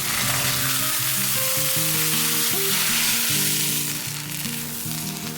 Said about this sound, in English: adding in the seasoning with fried mustard and red chilies to finish it off